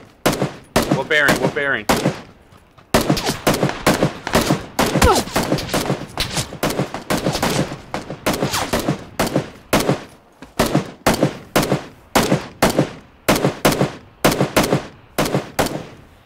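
Enemy gunfire in a PUBG-style battle royale game, with sharp shots and short bursts repeating in a steady rhythm. A brief question is spoken early on.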